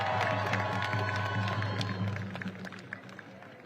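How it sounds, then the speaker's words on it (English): A crowd at an outdoor protest rally claps and cheers loudly as a speaker is welcomed, with a dense roar that gradually thins into scattered claps and shouts. "Please give him a round of applause."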